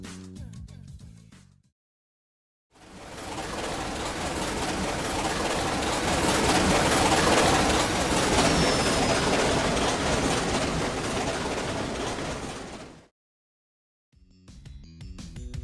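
A New York Central train rolls along the rails with a steady, close rumble and faint clickety-clack lasting about ten seconds, with brief bursts of other sound before and after.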